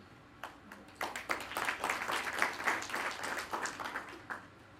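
An audience at an African women's business forum in a Kenyan hotel breaks into applause, clapping swelling quickly to a steady ovation and then fading out.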